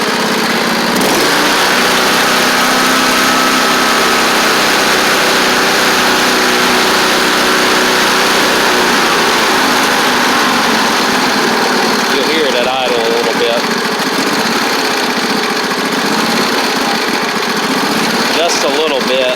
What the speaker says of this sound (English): It does surge a tiny bit at idle, but it runs great whenever you give it the throttle.